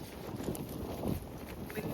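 Gusty wind buffets the microphone outdoors along a seaside path, a rough, rumbling roar that swells and eases in close bursts with no clear voices.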